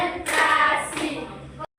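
A class plays a rhythmic concentration clapping game, giving a short burst of claps mixed with chanting voices before an abrupt stop.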